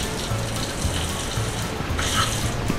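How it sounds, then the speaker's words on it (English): Water sprays steadily from a hose or tap, rinsing loosened scales off sardines, a continuous close gushing with slight splashing variations throughout. "I'm gonna spray them into here and just flush it down."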